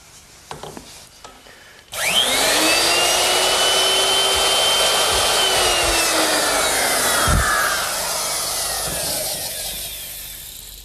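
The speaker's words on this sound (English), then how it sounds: "I'm using this straight edge clamp to guide my router so that I can remove some material right in this layout area here." A router fitted with a half-inch straight bit and guided along a straight-edge clamp spins up abruptly after a few light knocks, then holds a loud, close, steady high whine while cutting wood, easing slightly toward the end.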